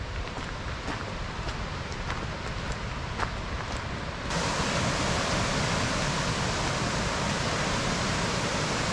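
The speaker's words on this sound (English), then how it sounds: "Quite pleasant, just the sound of the water," A creek rushes through a rainforest gorge at Finch Hatton Gorge with a steady broadband wash of flowing water. Its roar grows noticeably louder and fuller about halfway through, with no voices.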